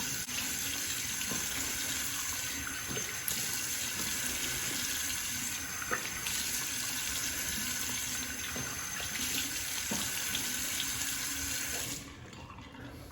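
Water runs steadily from a bathroom tap into a sink, a continuous close hiss of splashing flow with no voices, ending abruptly as the tap shuts off near the end.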